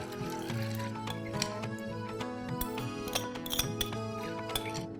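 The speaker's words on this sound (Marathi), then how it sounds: "आता ही डाळ आपण या स्टीलच्या भांड्यात घालूया" Dal tips into a steel pot, giving light metallic clinks and ticks scattered over a few seconds over a soft background, with tonal ringing from the steel.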